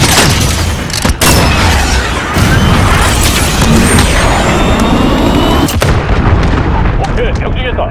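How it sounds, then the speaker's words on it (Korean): A missile strike and artillery fire in the video game Call of Duty Modern Warfare: loud, dense booms and crashing blasts follow one after another, with a rushing roar filling the whole stretch. "대포를 준비. 미사일 발사."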